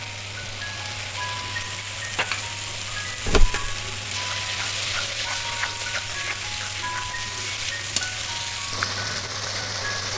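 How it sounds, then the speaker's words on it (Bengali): Spices and whisked yogurt fry in a pan for a fish curry, giving a continuous close sizzle and crackle. One louder knock comes partway through, and no one talks. "এবারে ফেটিয়ে রাখা টক দইটা দিয়ে দেবো আমি"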